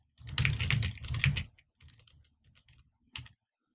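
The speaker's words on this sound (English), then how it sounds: "I can hurry up and type this stuff in" Rapid clattering keystrokes on a computer keyboard, a dense burst of typing for about a second and a half, then a few scattered lighter taps and one last sharp cluster of keys, close and clear with no talking.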